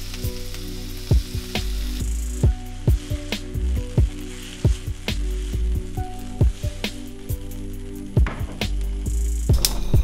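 Sliced peppers sauteing in olive oil in a pan give a constant close sizzle, broken by repeated sharp clacks and scrapes of a utensil stirring them, with no talking.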